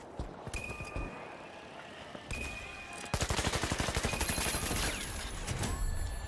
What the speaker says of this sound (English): That shotgun got me.